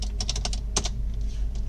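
Fingers tap out a KRA tax number on a computer keyboard: a quick, close run of crisp key clicks, a short pause, then a few more presses, with no talking.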